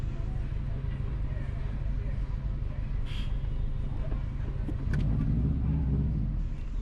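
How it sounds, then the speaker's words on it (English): Friday traffic rolls along a highway in Ocho Rios, Jamaica, a constant low road rumble from inside a moving vehicle, with a brief passing whoosh midway and a person talking over it. "Today is Friday, and this is a normal Friday traffic."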